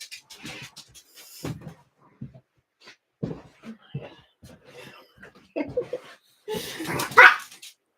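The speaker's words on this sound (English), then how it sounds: "You can't bark at me when I'm trying to show something." Dog barking indoors, a few sharp barks in a short loud burst near the end, with a person talking intermittently beforehand.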